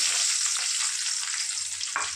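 Small shallots hitting hot groundnut oil in a pan, a loud, continuous close-up sizzle with crackling and no voices.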